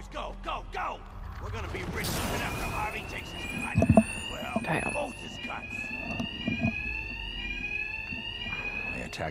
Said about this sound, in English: Will be covered by the noise of the alarm.